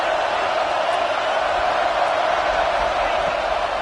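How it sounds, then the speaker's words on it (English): Loud, dense roar of a stadium crowd at a college football game, Trenches 2040 versus Oregon, on a third down in the red zone, a steady wall of noise held at one level throughout. "this crowd is at fever pitch"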